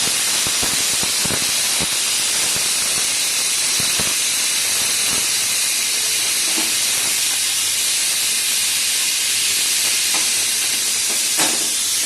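Fish coated in salt and turmeric fries in hot oil, giving a steady close sizzling hiss broken by scattered sharp crackles and pops throughout, with no talk.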